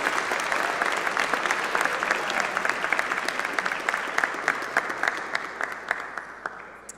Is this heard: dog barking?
no